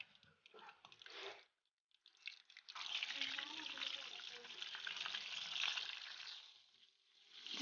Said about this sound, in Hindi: कोफ्ते हमने ऑयल में डाल दिए हैं